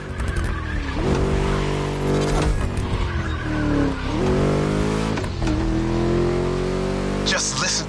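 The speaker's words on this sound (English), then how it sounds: "Just listen to that V8 like a chunky, down-tuned guitar riff." A V8 car in the racing game The Crew Motorfest revs hard through repeated gear changes, rising and dropping, with tires skidding and squealing, loud and close, while a voice talks over it.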